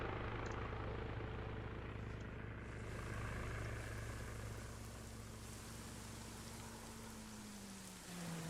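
A helicopter in a military video game drones steadily overhead, its low rotor hum and broad whooshing wash continuous and fairly faint, with the engine tone sliding slightly lower near the end.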